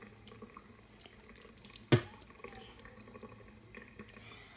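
Water runs from a sink tap during a morning wash for rinsing, a steady soft splashing with one sharp splash or clink midway, fairly close and without talk.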